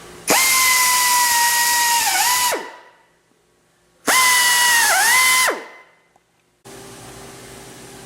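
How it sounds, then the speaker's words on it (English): A power drill whines loudly in two long bursts while drilling 1/4-inch pilot holes, its pitch dipping as it bites in, followed by a quieter steady hum. "Now I'll drill these two pilot holes to 1/4 inch."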